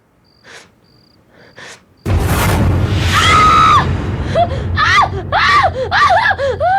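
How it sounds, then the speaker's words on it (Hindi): A woman screams in fright inside a house, a sudden loud cry that bursts out after a quiet start and carries on in shrill, wavering wails over a dense, noisy backdrop. "तुम ऐसी चीखी क्यों?"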